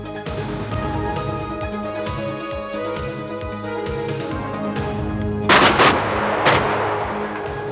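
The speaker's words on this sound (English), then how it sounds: "A self-propelled artillery version has been built on the chassis, called the GCT 155mm." A GCT 155mm self-propelled artillery gun on an AMX-30 tank chassis fires, with two heavy, booming blasts near the end under loud, steady background music.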